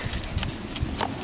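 Hooves of a young, previously unridden Mustang clip-clop at a walk on the ground, soft uneven footfalls close by under steady background noise.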